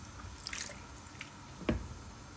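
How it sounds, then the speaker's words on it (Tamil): Water from rinsing a cooking vessel poured into a Tamil egg curry (muttai kuzhambu), heard as a few soft, brief splashes and drips, fairly faint and close. "இதை கொஞ்சம் இந்த மாதிரி அலசி ஊற்றிடலாம்."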